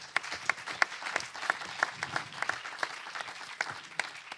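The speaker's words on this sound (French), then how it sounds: "On peut applaudir." An audience at a conference plenary session gives a brief round of applause, with distinct claps in a quick irregular rhythm that sound moderately distant and fairly faint.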